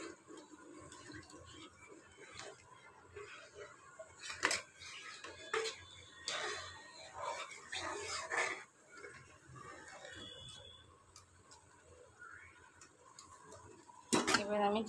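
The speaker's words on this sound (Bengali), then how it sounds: "এটাকে বেশ ভালো করে নাড়াচাড়া করে" Bottle gourd and potato curry being stirred in a pot, with intermittent clinks and scrapes of a metal spoon against the cookware, fairly close and moderately loud, separated by quiet stretches.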